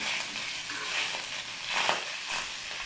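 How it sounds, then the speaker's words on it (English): Rice stir-fried in a steel wok: steady loud sizzling with scraping and tossing swells from a spatula, heard up close. "now I will use the spatula and start frying the beautiful rice"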